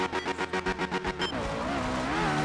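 In Art of Rally, a Group S rally car races a Finland stage. The engine pulses in rapid, even bursts as it revs, then settles into a steady, rising drone with a whining tone and tire noise, loud and close.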